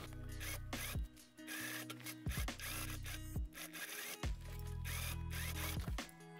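An overlock sewing machine stitches a corduroy dress seam in quick mechanical bursts, whirring and clattering close by with short pauses between stitching runs.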